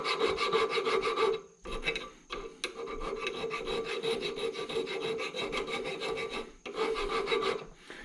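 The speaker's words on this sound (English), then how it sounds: "I'm going to clean out any scale that we can't get with the wire brush with this, my favorite file" A metal file scrapes scale off a brake caliper in repeated close, raspy strokes, with a few brief pauses between passes.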